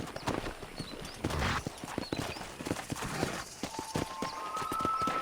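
Hooves clip-clop in a brisk, steady rhythm as a horse trots along in the video game Red Dead Redemption, with a brief whinny and soft game sounds in the background.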